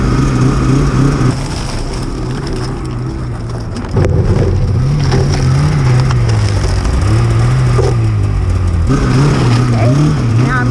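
A vehicle creeps slowly up a ramp onto a Truckboss deck, producing a loud, continuous engine drone with gentle rises and falls in revs and a rough, rumbling undertone throughout.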